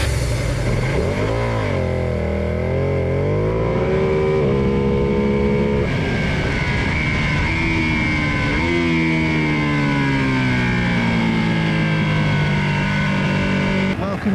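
Ducati Panigale V2 (2020) motorcycle lapping the Jerez MotoGP circuit in Spain, its engine loud and continuous, revving up and down through the gears with rising and falling pitch sweeps as it accelerates out of corners.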